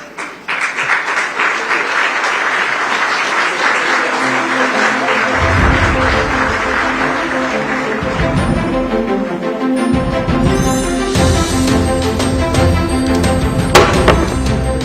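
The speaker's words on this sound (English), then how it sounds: "Huge round of applause." Sustained audience applause at a live conference on artificial intelligence, dense clapping filling a hall and continuing throughout with some low rumble and scattered louder claps.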